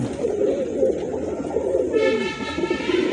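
Pigeons coo nearby in soft, low, rolling calls, overlapping continuously with a faint high chirping joining in over the second half.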